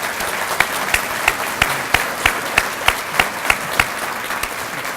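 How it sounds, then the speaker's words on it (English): Steady applause from an audience at a policy maker breakfast, a broad wash of clapping with sharper individual claps popping out at a regular pace throughout. "Please give them a round of applause."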